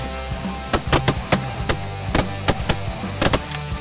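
Rapid volleys of loud, close shotgun blasts during a goose hunt in snow, fired in two or three quick bursts over a low steady background rumble.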